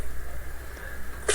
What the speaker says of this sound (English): Oh, there goes the sneeze attack.